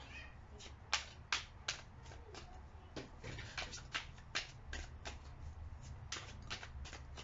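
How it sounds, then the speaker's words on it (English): Tarot cards riffle and snap repeatedly in quick, uneven bursts, close and crisp, with a soft steady room hiss underneath. "A couple more shuffles."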